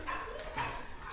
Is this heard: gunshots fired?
no